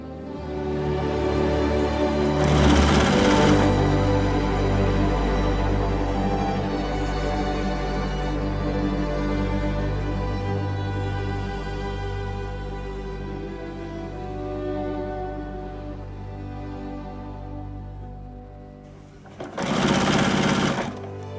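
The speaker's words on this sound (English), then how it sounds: "we'll sew one of those onto the bottom of each of these units" A sewing machine stitches quilt pieces in a continuous, steady mechanical whir that runs nearly the whole time, with brief louder bursts near the start and end.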